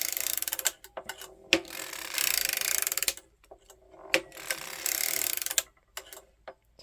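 A hand-cranked circular sock knitting machine clicks and ratchets as its latch is adjusted, giving bursts of dense mechanical clatter broken by sharp single ticks and short pauses.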